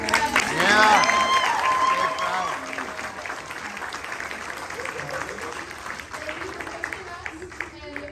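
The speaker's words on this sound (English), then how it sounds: "I personally want to thank Fred. Clap for Fred." A theatre audience after a Legally Blonde performance bursts into applause, with loud vocal cheering at first, then a softer continuous clapping that fades somewhat over eight seconds.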